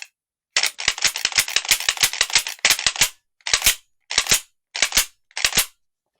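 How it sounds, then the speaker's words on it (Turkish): An Aselkon S4 GT air rifle's mechanism is worked repeatedly, giving loud, sharp, close metallic clacks, first in a rapid rattling series and then in slower, spaced pairs of clicks, with silence in between. "Mekanizma sesi"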